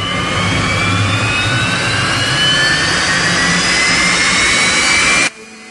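A rocket engine fitted with a pre-cooler roars steadily during a ground test run for a Skylon spaceplane engine. The roar is loud, broadband and continuous, with rising whining tones above it, and it cuts off abruptly near the end.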